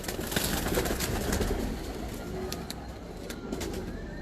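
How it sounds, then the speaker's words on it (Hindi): Heeno pigeons on a Lahore rooftop keep up a dense, continuous murmur of cooing, fairly loud and near, with no voices. "लो जी हीनो कबूतर आ गए माशाल्लाह।"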